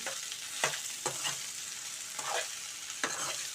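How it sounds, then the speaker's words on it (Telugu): Okra (bhindi) frying on a fairly high flame while being stirred constantly: a soft, continuous sizzle with four or five distinct scraping strokes of the spatula about a second apart, quiet and close. "అడుగంటకుండా ఫ్లేమ్ కొంచెం పెద్దగానే పెట్టి వేయించుతున్నానండి. తిప్పుతూనే ఉండాలండి"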